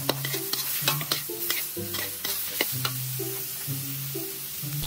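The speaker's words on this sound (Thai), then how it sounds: "ต่อไปแล้วก็จะทำการใส่ผักนะครับเราก็ผัดเข้ากับเนื้อหมูนะครับ" Vegetables and pork are stir-fried together in a pan for egg fried rice, the spatula clattering and scraping in quick irregular strokes over a low sizzle, up close with no voices.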